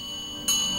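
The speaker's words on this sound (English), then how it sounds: "Let's ring the bell of hypnosis." A single bell of hypnosis sound effect rings out on a comedy radio show, with a sudden bright chime that sustains and slowly fades over a steady background hum.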